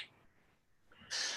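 A tiny pet bird, a small but very loud female, gives a sharp, shrill call that bursts in near the end, loud and close, after a stretch of faint indoor room noise.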